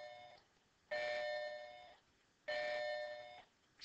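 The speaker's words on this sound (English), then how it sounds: "Excuse that bell." An indoor doorbell rings twice, each a ringing electronic chime lasting about a second, with short quiet gaps between the two.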